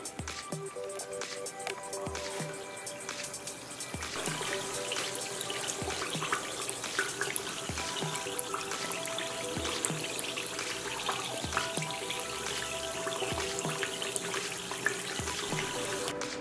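Liquid is poured over crushed ceramic processor chips in a container during a gold recovery process, giving a steady, continuous watery pouring and trickling sound with small drips and clinks, fairly close and without talk.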